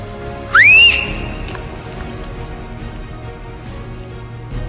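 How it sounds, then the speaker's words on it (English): Hunter's single loud, rising whistle in high-country bush, sharp and close, to make a sambar deer stand, followed by a quiet outdoor background. "Give him another whistle."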